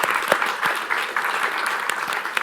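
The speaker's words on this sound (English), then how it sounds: "So give yourselves a big round of applause." Audience applause at a care careers conference for young people in the UK, a steady dense wash of clapping filling the room, moderately loud with no speech over it.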